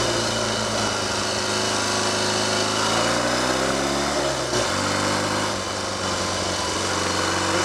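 A Triumph/Royal Enfield 'Trifield' 500 trials motorcycle engine runs continuously while being ridden, a loud, steady single-note drone that rises and falls in pitch with throttle and gear changes, close up and unbroken throughout.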